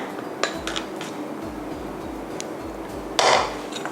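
Cooked curry fried rice is pressed firmly into a tall bowl, giving soft, scattered clinks and taps of utensil against the bowl over a low, steady kitchen background, with one louder scraping knock near the end.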